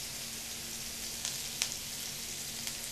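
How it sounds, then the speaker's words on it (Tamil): Onions sautéing with a pinch of salt in a pan, giving a faint, even sizzle with a couple of light scrapes, heard on its own without talk. "வெங்காயம் நல்லா வதங்கட்டும்"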